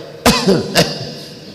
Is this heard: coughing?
yes